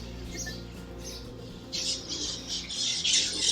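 Parrots and pigeons nesting in the holes of old hospital ruins in Santo Domingo squawk and chatter, harsh calls coming in bursts that grow louder toward the end, with no one talking.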